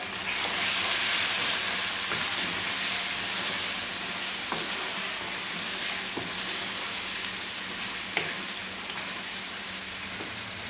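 Chicken with turmeric and crushed red chilli fries in a pan, a steady close sizzle with a few soft clicks of stirring scattered through, no voices.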